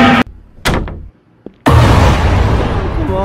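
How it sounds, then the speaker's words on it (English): A door in the game Monsterburg rattles and thuds as someone repeatedly forces it without it opening: a few sharp knocks and bangs followed by a sustained rumbling clatter, loud and close. "It's not letting me open the door."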